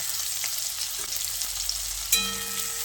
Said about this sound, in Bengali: এখন তেলটাকে খুব ভালোভাবে গরম করে নিয়ে এর মধ্যে একটা মিডিয়াম সাইজের কুচনো পেঁয়াজ দিয়ে দিচ্ছি